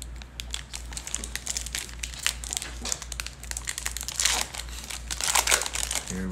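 A 2020-21 Panini Prizm NBA trading card pack torn and crinkled open up close, a run of sharp foil rustles and crackles that grows busier toward the end.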